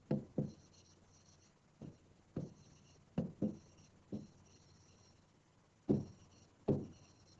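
A teacher writes on a board in a Class 9 English classroom, giving short, quiet taps and scratching strokes that come in small clusters with pauses between them.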